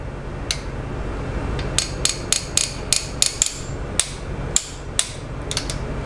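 Close, sharp metallic clicks from a torque wrench ratcheting on a Jeep 2.4 engine's cylinder head bolt during head gasket work, arriving as a dozen quick irregular snaps over a low background hum.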